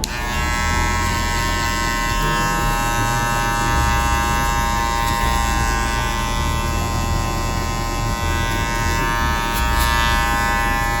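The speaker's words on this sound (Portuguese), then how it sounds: "Passa bem a máquina mesmo para tirar o máximo que você conseguir com a zero baixa" An electric hair clipper with a low zero guard buzzes steadily at close range as it cuts hair for a taper fade, a constant droning hum with no voices throughout.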